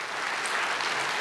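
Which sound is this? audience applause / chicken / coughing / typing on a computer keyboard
audience applause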